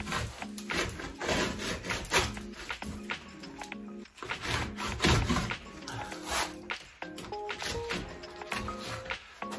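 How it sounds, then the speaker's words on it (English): A sharp blade scores and cuts along thin timber while a compost shed is being built, giving close, repeated rasping strokes with brief pauses and quiet handling knocks in between. "we need to cut off these which is where having a sharp blade is really going to come into its own"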